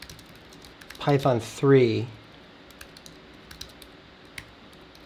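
Computer keyboard typing commands while setting up a server, scattered light key clicks around a short burst of speech, close and quiet.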